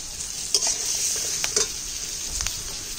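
Masala with slit green chillies and salt sizzles and fries in a pan for a Bengali hilsa curry, with steady crackling hiss and a few scraping stirs of a spatula, close and alone.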